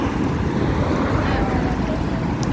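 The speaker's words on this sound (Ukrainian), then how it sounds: "На вулиці в нас нібито тепло, але дуже таке, знаєте, вітер прохолодне." Cool wind gusting outdoors on a city street, a steady broadband rush with low rumbling buffets on the microphone that runs unbroken from start to finish.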